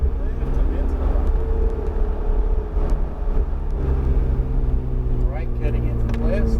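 A car accelerates through turns on an extreme-driving course, its low engine drone loud and steady with a brief dip midway. An instructor's voice talks over it.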